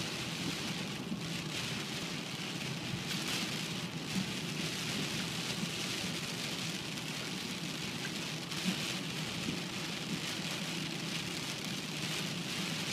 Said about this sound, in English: Look at how quickly that rain is.